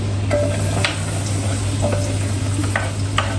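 Onions frying for mutton curry, a continuous close sizzle with a low steady hum beneath and occasional sharp scrapes of a spoon against the pan.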